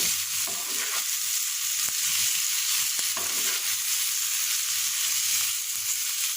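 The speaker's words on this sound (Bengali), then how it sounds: "পটল ভাজি করলাম" Sliced pointed gourd (potol) fries in oil in a pan, a steady close hiss of sizzling with a few faint utensil clicks scattered through it.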